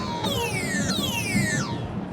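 A Waldorf NW1 eurorack wavetable module plays a bright, buzzy synth lead of rich harmonics. It falls in pitch across three short gliding phrases and is heard alone, close and clear.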